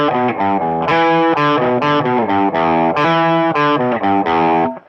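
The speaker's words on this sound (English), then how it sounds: "So you're on the bridge, pickup in the selector, and you're on distortion." An electric guitar on the bridge pickup plays a loud, heavily distorted riff of chugging chords and stabs in a steady driving rhythm, close and alone with no talking.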